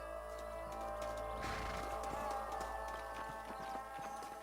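Horse hooves clip-clopping steadily in Red Dead Redemption over a constant low hum and background music, with a brief louder swell near the middle.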